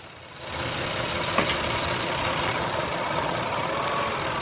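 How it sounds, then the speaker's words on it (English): A 2000 Toyota 3.0 VVT engine with a misfire idles steadily, a continuous even hum with faint ticking, heard close and alone. "Oh wow, that engine's running way better. Smooth as silk."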